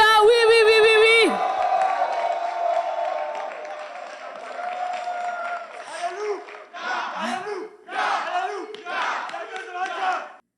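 An outdoor concert crowd at a zouglou, rap and coupé-décalé show cheers and whoops loudly for the performers. A long held voice rises over the crowd at the start, and voices talk over the noise near the end.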